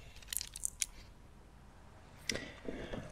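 A wire being cut, the power supply lead of a Bosch battery BMS, giving a few faint crisp snips and clicks at close range in a quiet room.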